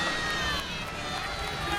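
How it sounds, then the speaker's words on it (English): A stadium crowd at San Siro cheering for AC Milan goalkeeper Donnarumma before the second half against Palermo, a broad, steady roar with a distant, diffuse texture. "Donnarumma waving to a few fans here as they cheer for him"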